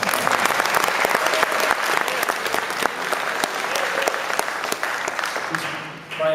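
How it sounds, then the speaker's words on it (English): Dense, steady audience applause fills a percussion ensemble concert hall, loud and continuous for several seconds before thinning slightly at the end. "Yeah, you can clap"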